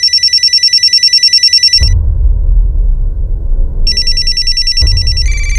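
A telephone bell rings in loud, rapid trilling bursts, sounding alone at first, then breaking off for a low rumbling pause before ringing resumes; no speech is heard.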